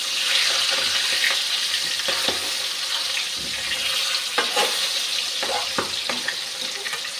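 Beans and sweet pumpkin fry in a pan, a steady close hiss of sizzling oil broken by scattered light clicks and scrapes as the pieces are moved about.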